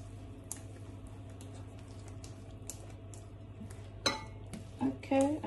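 A whisk scrapes and taps against a bowl while flour is mixed into corn dog batter, faint and steady at first, then sharper clinks near the end, over a low background hum and some speech.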